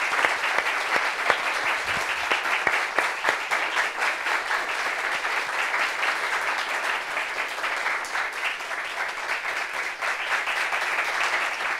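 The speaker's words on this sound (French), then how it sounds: "On applaudit pour lui." Studio audience applauding a guest, a trader, on a French-language talk show: dense, loud, continuous clapping with sharp individual claps, sustained throughout with no voices.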